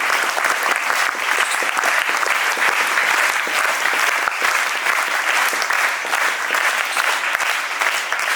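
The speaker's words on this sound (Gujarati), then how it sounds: "કનુભાઈનું આપણે જોરદાર તાળીઓથી સન્માનને વધાવીશું" A hall audience at an honouring ceremony gives strong, sustained applause for Kanubhai, many hands clapping in a loud, crisp, even stream from start to finish.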